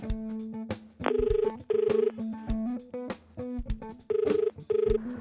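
A telephone rings with an incoming call, a loud electronic ringtone of repeated melodic bursts and short buzzing pulses in a steady rhythm, close by with no talking.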